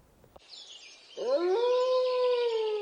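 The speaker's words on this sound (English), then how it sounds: "Did you ever wonder why some dogs howl and others don't?" Dogs howling: a thin, high whine gives way to a loud, sustained, rising and then level howl that rings on clearly with no talking.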